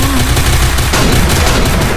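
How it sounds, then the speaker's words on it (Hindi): Small shotgun gunfire from the Free Fire game fills the clip with loud, dense booming shots and game effects, continuous and close with no pauses. "मैं CS रैंक में देखो छोटी शॉटगन से कैसे मारता हूँ मैं एस"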